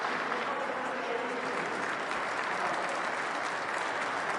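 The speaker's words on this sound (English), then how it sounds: "He thinks the applause is for him at a Medal of Honor ceremony." Steady crowd applause at a Medal of Honor ceremony, dense and continuous throughout, heard from some distance with no clear voices.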